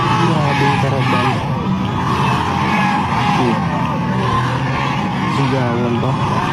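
Crowd shouting and cheering at a Sara Duterte supporters' rally in Dubai, a dense, continuous roar of many voices with rhythmic yelled chants and whoops, loud throughout.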